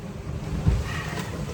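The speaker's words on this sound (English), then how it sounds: "The boat's really pounding pretty hard too." A sailboat heeled well over at sea pounds through short, closely spaced waves, with one hard thud rising from a steady rush of wind and water.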